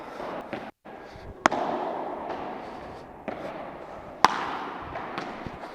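A padel ball strikes a very hard, 364-gram Cork Extreme LTD 2024 racket, producing two sharp, loud cracking impacts a few seconds apart over a background of court noise and faint hollow knocks.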